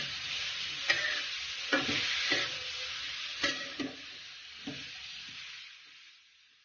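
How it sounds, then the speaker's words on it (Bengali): Grated carrots fry for carrot halwa with a steady sizzle while a spatula scrapes and stirs the pan in several distinct strokes. The sound is close and moderate in volume, and no one speaks. "গাজরটা ভালোভাবে মিশিয়ে নিচ্ছি একটু ভেজে নিতে হবে"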